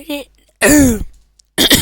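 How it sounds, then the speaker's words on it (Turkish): A person gives a short, harsh cough or throat-clearing, close and loud, framed by brief vocal sounds. "Öksürmeye çalıştım"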